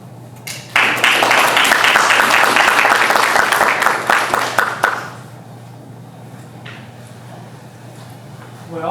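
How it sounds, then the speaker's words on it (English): An audience bursts into applause after a debate on the resurrection, with dense clapping that holds for about four seconds and then fades. A quiet room and a few stray claps follow. "Let's give another round of applause to our panel."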